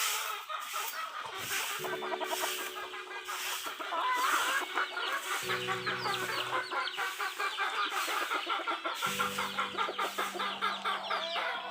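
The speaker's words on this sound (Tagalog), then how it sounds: "tignan mo yung mga manok ko" Chickens cluck steadily and busily close by, a dense flock chatter with occasional louder calls, no talking.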